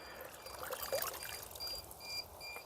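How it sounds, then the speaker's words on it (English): Water draining out of a cordless robotic pool vacuum lifted from the pool, a soft, steady trickle and dribble, faint and close, with a few thin electronic tones. "I'm letting the water drain out of it."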